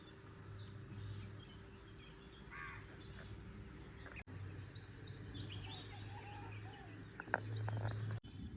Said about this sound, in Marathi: फक्त पक्षी मोटर आणि पाण्याचा जो काही येईल तो आवाज